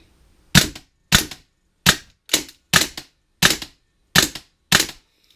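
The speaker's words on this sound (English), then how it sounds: "here's a test fire of the gun in action" Vipertech Centurion Arms M4 airsoft rifle firing on green gas or CO2, eight sharp, crisp blowback shots in an uneven semi-auto rhythm, close and loud with quiet gaps between.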